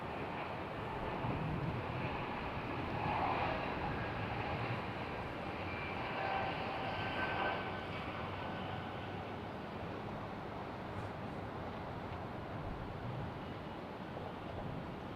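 A Southwest Airlines jet moves at Raleigh-Durham airport, its engines making a steady, broad, distant roar that holds constant throughout with no voices over it.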